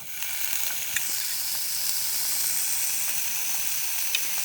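Red, yellow and green capsicum sauté in hot oil, giving a continuous, even sizzling hiss up close with a few faint clicks, and no talking.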